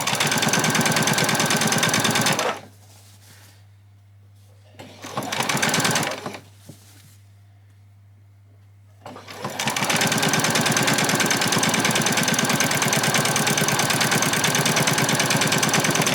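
A sewing machine stitches an apron piece in two loud, steady bursts of rapid whirring, split by a short pause and a brief back stitch; it runs alone, with no talk.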